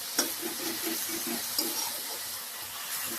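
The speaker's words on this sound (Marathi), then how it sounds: "आता टोमॅटो टाकून घेऊया. याला तेल सुटेपर्यंत परतायचं" Chopped tomatoes frying in oil with ginger and garlic for a dhaba-style methi masala, a soft steady hiss and sizzle close by with a couple of light utensil taps, no talking.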